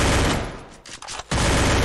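Rapid gunfire in a competitive shooter game, a dense continuous burst of shots that drops out briefly in the middle and then resumes at full loudness.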